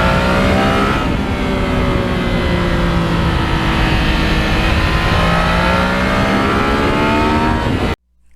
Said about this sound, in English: And that exhaust, Yamaha did such a great job with that exhaust